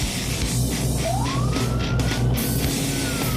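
A Texas police car siren wails and rises in pitch over steady road and engine noise, heard from inside the moving police vehicle.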